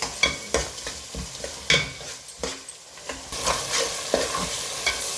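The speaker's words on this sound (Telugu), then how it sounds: "మసాలా అంతా ఆయిల్లో వేగినాక" Spice masala paste sizzling in hot oil in a pan for fish curry, a spoon stirring and scraping in repeated clattering strokes over a continuous close frying hiss.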